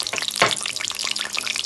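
Cumin seeds dropped into a small amount of hot oil, giving a brief close crackling sizzle with sharp popping spatters and no voices.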